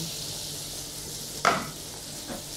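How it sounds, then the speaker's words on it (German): Pumpkin seeds toast in a hot, dry pan with no oil, giving a steady soft sizzle and rustle, with one sharp clack of a seed or utensil midway, close and alone without talk. "Und die Kerne einfach ohne Öl, ohne genau. In die heiße Pfanne geben."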